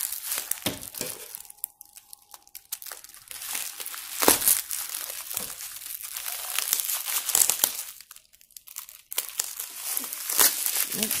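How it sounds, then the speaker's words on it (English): A taped package is pried and torn open by hand: loud crinkling, crackling and ripping of tape and packaging come in bursts with brief quiet gaps, close to the microphone. "Does not want to open. They taped it good."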